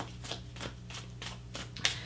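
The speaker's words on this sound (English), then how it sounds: "I'm shuffling the wrong deck." A deck of tarot cards being shuffled by hand, with several soft riffling bursts spread at a steady pace and a sharper snap near the end, heard up close over a low steady hum.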